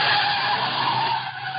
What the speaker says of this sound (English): Car coming down from the house.